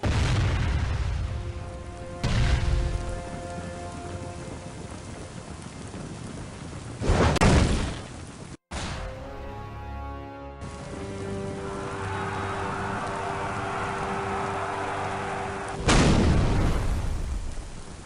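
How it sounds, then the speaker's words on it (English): Bombards fire during a large siege battle in Medieval II: Total War, with deep booming blasts standing out against a continuous rumbling battlefield roar. "Another fantastic shot by the ground bombards."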